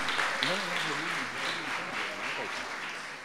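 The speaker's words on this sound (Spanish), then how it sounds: "fuerte el aplauso para la institución educativa La Reparación" An audience at an award ceremony claps steadily, a broad continuous wash of applause with a voice speaking over it throughout.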